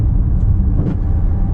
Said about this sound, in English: the 2-liter turbo inline 4 gets the vehicle up to speed